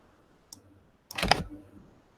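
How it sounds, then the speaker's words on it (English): A couple of quick computer keyboard clicks, one faint tap followed by a short louder burst of keystrokes close by in a quiet room. "let me type it in Russian"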